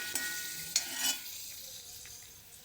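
Ginger, garlic, green chillies and curry leaves sauté in hot oil in a pan with a soft, even sizzle, broken by a few close spoon scrapes early on before the frying settles into a quieter hiss.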